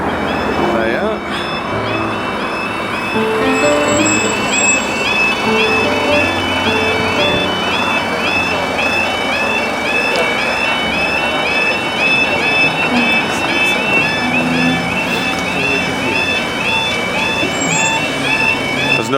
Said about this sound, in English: The level crossing is about to burst into action.